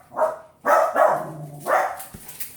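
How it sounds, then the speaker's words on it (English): Indoor dogs set off by a passing fire truck siren bark in three or four loud, close bursts, with no talking over them. "Ignore the dogs."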